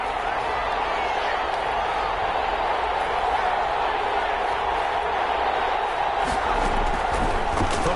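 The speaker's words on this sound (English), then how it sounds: "the crowd getting into it as we come up on a big 3rd down" A stadium crowd roars steadily in a Madden 21 football game ahead of a big third down, a loud, dense wash of cheering with no break.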